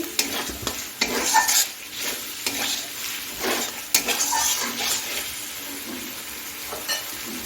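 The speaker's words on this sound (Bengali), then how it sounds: "এখন আমি মটরশুঁটিটাও দিয়ে দিচ্ছি দিয়ে একটু নেড়ে চেড়ে নিচ্ছি" Green peas tossed into a frying pan and stirred, giving a continuous sizzle with irregular scraping and clinking of a utensil against the pan, close and moderately loud, with no talking.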